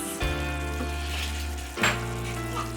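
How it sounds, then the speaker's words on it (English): Pasta sauce bubbles in a pan with a close, continuous sizzle, swelling into two brief louder bursts of spitting and popping. "And my boiling sauce."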